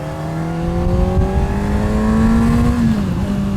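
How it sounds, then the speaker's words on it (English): A Honda CBR600RR 600cc sport bike engine held at very high RPM, a loud steady high-pitched whine with a slight rise in pitch before it dips and settles near the end. "You're dumping the clutch at a very, very high RPM. It's loud."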